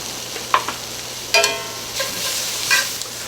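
Braided pork belly cooking with red beans in a Cajun-style pot, a close sizzle with a few sharp stirring and scraping clatters.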